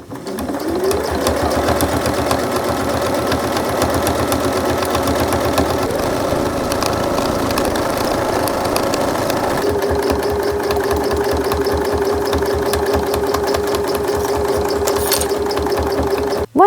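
A sewing machine stitches bias binding onto a dog cushion cover, a close, fast, even mechanical rattle running continuously with slight changes in speed and a short pause.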